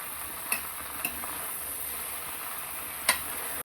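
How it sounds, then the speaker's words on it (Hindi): Raw mango frying with whole spices on a high flame, a steady close sizzle with a few sharp ticks of a spoon against the pan, no voices. "दस मिनट तक हाई फ्लेम पे कच्चे आम को अच्छी तरीके से खड़े मसालों के साथ फ्राई कर लेंगे।"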